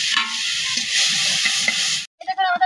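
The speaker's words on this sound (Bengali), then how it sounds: "আর অল্প পরিমাণে লবণ দিয়ে মাছগুলো মাখিয়ে তেলের মধ্যে দিয়ে দিব। আর আমি মাছগুলো একটু লাল লাল করে ভেজে নিব।" Dried fish sizzles steadily in hot soybean oil, a loud continuous frying hiss for about two seconds, then cuts off into a brief quieter stretch of clinking and stirring.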